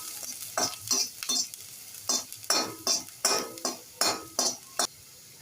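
Finely chopped ginger and garlic fry in smoking-hot oil, with a steady sizzle under about a dozen rhythmic scrapes and stirs of a spatula against the pan, close and clear.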